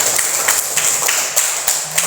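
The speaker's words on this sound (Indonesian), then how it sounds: "Tepuk tangan untuk kita semua." Children in a classroom lesson clap their hands in a quick, fairly loud series of sharp individual claps, several distinct beats over about two seconds.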